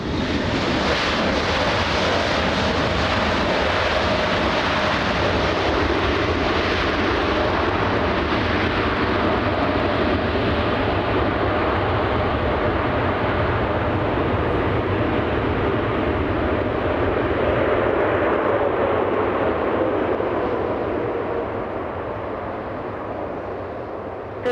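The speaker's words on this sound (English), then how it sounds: "Caution Triple 777 touching down now" A Boeing 777 airliner touches down at LAX airport, heard as a loud, steady, close roar mixed with wind buffeting that holds throughout and eases slightly at the very end.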